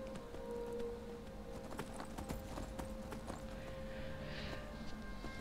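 Horse hooves clip-clopping steadily in Skyrim, a brisk even rhythm of clear hoofbeats with a faint sustained tone and a brief soft whinny-like sound behind.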